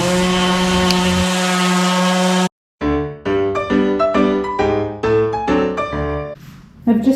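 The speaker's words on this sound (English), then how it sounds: "a 80 grit sandpaper, and to take off this finish" A power sander with 80 grit sandpaper strips the old finish from a veneered wood end table, a loud close droning whine that stops abruptly, then gives way to uneven bursts of motor and rubbing.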